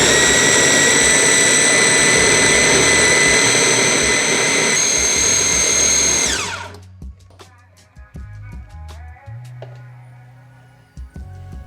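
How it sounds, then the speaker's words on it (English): A blender whips hummus made of chickpeas, tahini, lemon juice, garlic cloves, salt and cold water. A loud, steady whirring roar runs for about six seconds, then winds down and gives way to quieter clinks and knocks. "I slowly added cold water and blended until I got a nice smooth consistency"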